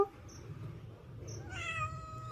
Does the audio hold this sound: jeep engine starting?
no